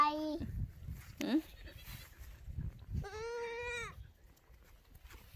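Goats bleating on a farm, with two clear wavering bleats, the second longer, close by amid a small herd, while a child and an adult talk and move about nearby.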